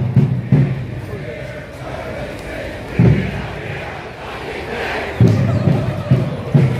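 Large stadium crowd where the Seahawks play, a dense roaring murmur with repeated low thumping bursts and shouts rising and falling throughout, loud and continuous.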